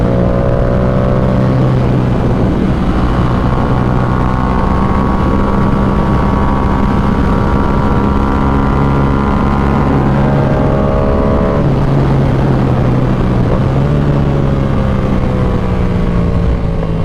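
A dirt bike engine runs loud and close, its pitch rising and falling through repeated revs over a steady low rumble, with no talking.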